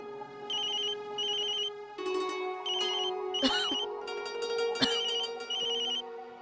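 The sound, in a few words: telephone ringing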